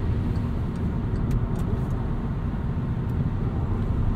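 Cabin of a 2016 Volkswagen Jetta SE with the 1.4L turbo engine while cruising: a steady, even drone of road and engine noise throughout, with no speech.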